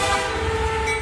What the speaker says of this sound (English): they blew a whistle, not a 110 decibel horn